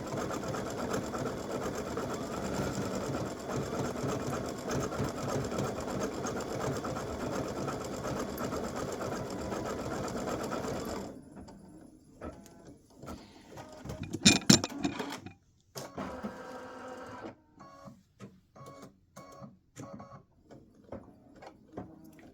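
An embroidery machine stitches an elf hat applique design with a loud, rapid, continuous mechanical chatter for about eleven seconds. It stops abruptly and is followed by quieter intermittent clicks and handling sounds.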